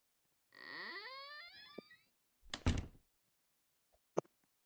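A door in the Roblox game Find the Markers, heard as a rising, wailing creak followed by a short burst of noise and a sharp knock-like thunk, isolated and fairly quiet.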